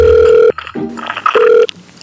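Telephone tones sound loud and close: a steady half-second tone, then a short muddled clatter, then a second steady tone.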